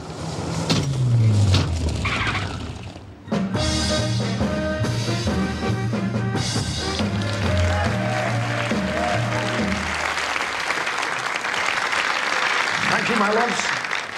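An audience at a televised variety show breaks into sustained applause and cheering in a theatre. Music and a voice play over the start, then the clapping continues loud and steady to the end.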